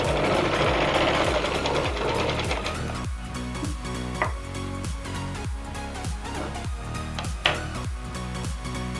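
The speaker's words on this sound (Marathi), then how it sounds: "ह्या अस्तरच्या भागावर आपण एक दाब शिलाई मारून घेणार आहोत" Sewing machine running steadily while stitching the lining of a blouse, its needle thumping in a fast even rhythm, close and loud, with a couple of sharp clicks partway through.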